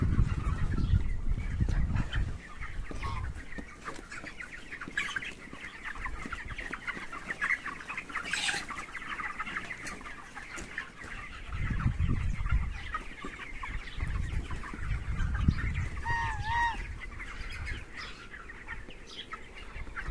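Chickens cluck on and off throughout, with low rustling and shuffling noises beneath and a few brief higher chirps.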